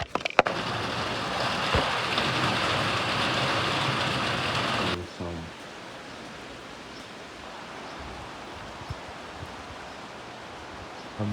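The season's first rain falls outdoors as a steady, broadband hiss for about five seconds, then cuts to a much quieter, softer patter of ambient noise.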